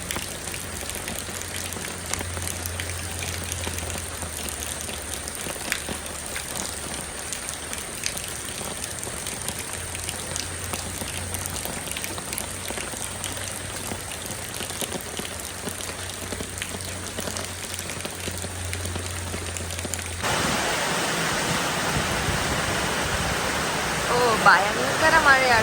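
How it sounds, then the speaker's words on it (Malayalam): Heavy rain pours down in a dense, steady hiss that fills the whole stretch, loud and close, brightening and intensifying near the end. "ഭയങ്കര മഴയാട്ടോ."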